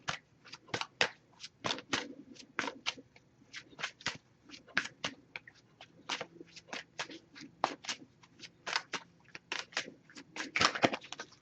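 A tarot deck being shuffled repeatedly, crisp riffling bursts in quick succession, close and fairly quiet.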